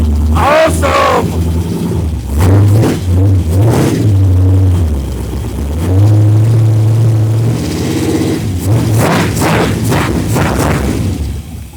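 A GM LS 5.3 V8 fitted with a front-mount HEI distributor idles loud and close, its deep rumble rising and falling with throttle blips, while voices talk over it.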